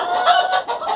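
A Rhode Island rooster and hen cluck close by in short, throaty bursts, several in quick succession within a second, with no talking.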